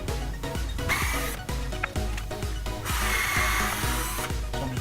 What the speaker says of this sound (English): So I'm just drilling a pilot hole so that screw is going to be bound up in there.